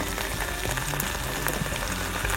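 Stuffed zucchini flowers crackle in a covered pot as the cooking liquid runs dry, a dense, continuous sizzle of soft pops close by, with no talk.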